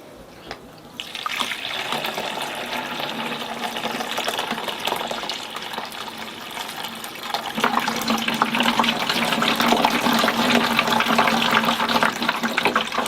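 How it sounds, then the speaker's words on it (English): Homemade laundry detergent made from ashes seeps through a cloth into a container, a steady trickling, pouring flow of liquid that starts after a brief quiet and grows fuller partway through. "My detergent is seeping through"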